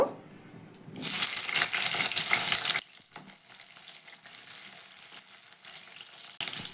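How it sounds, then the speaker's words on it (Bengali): Capsicum dropped into hot oil in a pan, a loud burst of frying that roars for about two seconds, then drops to a low, steady sizzle. "এবার সেই তেলের মধ্যেই আমি ক্যাপসিকামগুলোকে ভেজে নেব"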